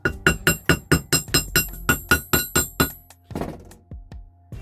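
Rapid, evenly spaced metallic hammer blows ring out close by as copper wire is shaped into a ring, about fourteen sharp strikes, followed by softer scraping and clinking as the hammering stops.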